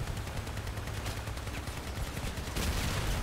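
Gunfire pounds in the Crossout vehicle combat video game: a fast, steady stream of shots in a loud, busy mix that grows heavier toward the end.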